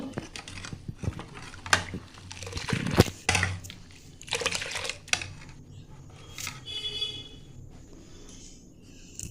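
Homemade curd (doi) being whisked in a bowl to mix it smooth, giving irregular wet clatters, squishes and taps in uneven bursts, close by and moderately loud.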